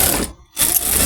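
A sewing machine runs through salwar fabric in two short whirring bursts split by a brief pause, close and fairly loud with no voices.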